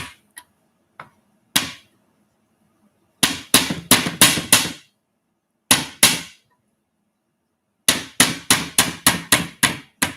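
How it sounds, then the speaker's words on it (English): Sharp rubber hammer taps in bursts on a katana's mekugi peg: a few isolated knocks, then rapid runs of strikes with short pauses between groups, close and crisp. "you just got to kind of hammer it down"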